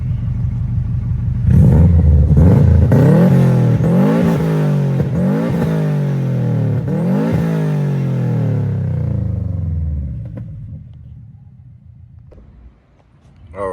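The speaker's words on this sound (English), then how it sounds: "Let me give you guys a couple revs real quick." A Subaru WRX with an EJ engine, catless downpipe and race exhaust revs hard several times at close range, each sharp climb dropping back to a burbling idle before the engine settles and fades out.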